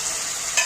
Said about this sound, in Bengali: দেখো পেঁয়াজটা লাল লাল করে ভাজা হয়ে গেছে